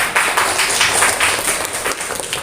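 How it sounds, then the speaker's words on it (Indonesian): A class of children claps together after a mindfulness moment in a physical education lesson on swimming, the applause coming in moderately loud, uneven rhythmic bursts with no voices. "tepuk tangan dong."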